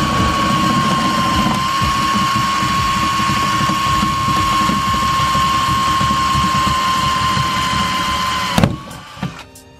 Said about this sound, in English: as soon as I drill these rivets out